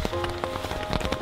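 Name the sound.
rain falling on a tent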